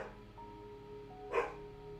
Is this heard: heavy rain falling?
no